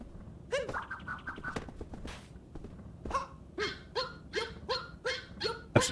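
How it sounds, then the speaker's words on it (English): A dog in Super Mario Odyssey barks in a rapid series of short, bright yips, a first burst then a steady run of about eight barks over light game background sound. "Ma'am, that's a dog."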